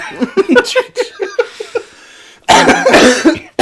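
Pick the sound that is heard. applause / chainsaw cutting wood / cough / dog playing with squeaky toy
cough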